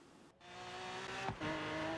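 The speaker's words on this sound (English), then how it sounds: "let's actually take this car out on the road to see what it can do" A Hot Wheels Mustang in the racing game Forza Horizon 3 revs and accelerates, its engine rising in pitch with a brief tire screech midway, loud and close with no talk.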